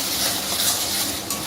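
Garam masala and sugar sizzling in hot oil while being stirred, a loud, steady hiss of frying with faint scraping throughout.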